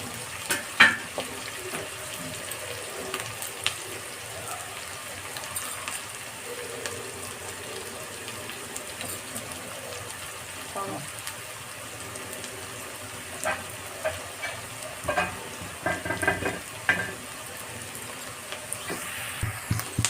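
Fish frying in oil on a flat pan for Andhra-style fish, a steady sizzling hiss with scattered sharper pops and crackles, fairly quiet and even throughout, with no voices.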